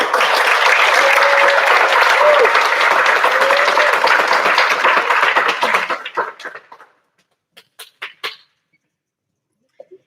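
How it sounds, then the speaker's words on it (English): A graduation ceremony audience gives loud, dense applause for about six seconds, then it thins to a few last scattered claps and fades into near silence. "So let's give a loud round of applause for Isabella"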